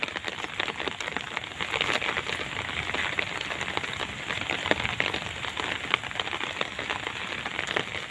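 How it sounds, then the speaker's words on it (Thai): Steady rain patters densely on surfaces nearby, a constant hiss with scattered crisp droplet taps throughout. "มาดูสายฝนแล้วคะ"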